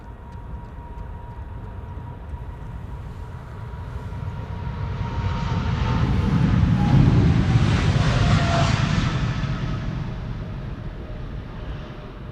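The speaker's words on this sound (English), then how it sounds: "This is Emirates flight 146 to Dubai. Interestingly, taking off from this runway." Emirates Boeing 777-300ER, an eight-year-old airliner, taking off from a runway at Amsterdam Schiphol Airport: a broad jet engine roar that swells steadily to a loud peak mid-way and then slowly fades as it passes.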